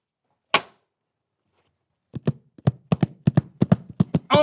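Clip-clop of a horse imitated by tapping hard objects, starting with one sharp knock, then a pause, then a quickening run of crisp, close taps in an uneven trotting rhythm.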